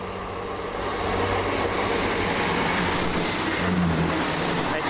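A Class 47 diesel locomotive on a Chiltern Railways shuttle from Birmingham Moor Street to Leamington Spa passes at Widney Manor with a loud, steady rumbling roar and rail noise that holds throughout.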